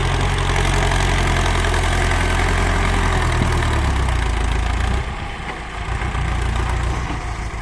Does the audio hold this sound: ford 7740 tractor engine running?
yes